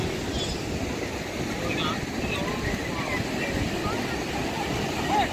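Sea waves with strong force rolling onto Gopalpur beach in Odisha on a cloudy afternoon, a steady broadband roar with wind, continuous and fairly loud throughout.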